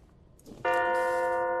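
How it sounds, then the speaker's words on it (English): A clock in the horror game Madison strikes a single loud, ringing chime after a faint rustle, its bright tone sustaining evenly. "Oh, it's a clock."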